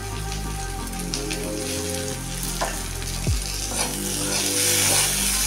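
Chopped tomato and salt hit a hot pan, giving a loud, continuous frying sizzle close up, with occasional stirring scrapes and a low steady hum beneath.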